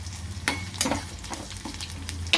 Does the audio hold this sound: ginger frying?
yes